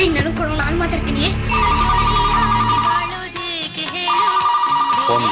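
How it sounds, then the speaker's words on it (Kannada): A telephone rings indoors in two long bursts of a steady electronic trill, with a short pause between them, while people talk throughout over background chatter. "ಫೋನ್ ರಿಸೀವ್ ಮಾಡಿ ಹೋಗಮ್ಮ."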